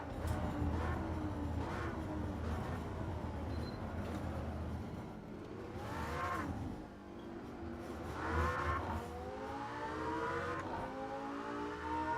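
A Lamborghini Sesto Elemento race car laps Monza, its engine droning and revving through rising gear sweeps, easing off under braking and then climbing again, steady and fairly close throughout.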